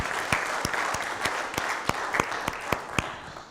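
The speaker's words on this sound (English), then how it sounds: "To Wim Meister, to Maxim Komiakov, can we give a round of applause to all of our keynotes?" An audience at a closing session of an academic conference applauds its keynote speakers with steady, mid-sized clapping, sharp individual claps standing out over the continuous patter.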